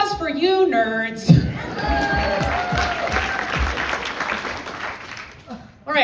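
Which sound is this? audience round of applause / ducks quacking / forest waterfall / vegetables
audience round of applause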